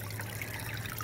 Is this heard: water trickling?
yes